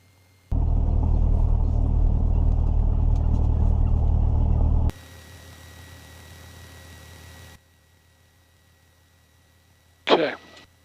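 A small airplane engine at full power on the takeoff roll at Pocono Mountain roars loud and steady for about four seconds, drops to a quieter hum, then falls silent before a brief sharp burst at the end.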